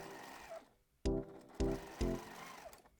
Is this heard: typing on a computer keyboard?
no